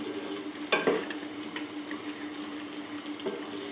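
Boiled black chickpeas are stirred and roasted in a kadhai, giving a soft wet scraping and sizzle with one brief louder clatter near the start and a few lighter knocks after.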